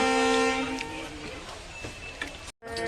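A train horn sounds in steady, sustained tones as a passenger train starts on a journey from Silchar to Guwahati, with carriage rumble and faint chatter around it and a brief dropout near the end.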